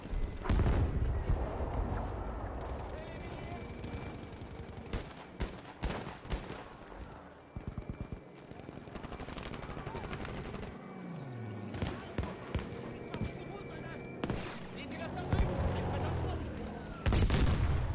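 Rapid gunfire and heavy booming explosions from Battlefield V multiplayer, dense and continuous, with a voice talking faintly underneath.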